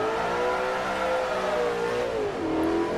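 An Audi R8 engine revs hard in the Forza racing game, a loud steady high whine that climbs then drops briefly as it shifts before rising again.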